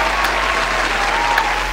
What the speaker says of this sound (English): So I just want a little applaud for them.